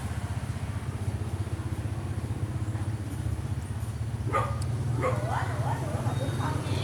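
A dog barks a few times at moderate distance on a Vietnamese street-food scene. The short yelping barks come near the end over a steady low engine and traffic hum.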